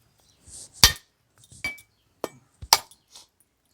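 A small coconut being cracked open, several sharp hard knocks struck one after another at uneven intervals, close and crisp in an otherwise quiet kitchen.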